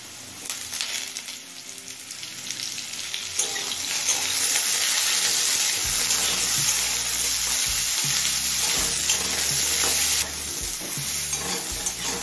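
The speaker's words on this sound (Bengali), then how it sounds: "গাজরটা দিয়ে আরো মিনিট 2-3 ভেজে নিলাম।" Carrots frying with potatoes in a pan on medium flame, a steady loud sizzle with stirring and scraping throughout, growing denser midway.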